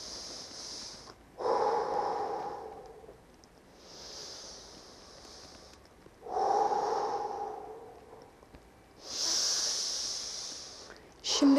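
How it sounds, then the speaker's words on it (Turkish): A person breathes deeply, alternating audible nasal inhales with breathy mouth exhales in about three slow, even cycles, close to the mic in a quiet room. "Burnunuzdan derin derin nefes alıp ağzınızdan verebilir misiniz?"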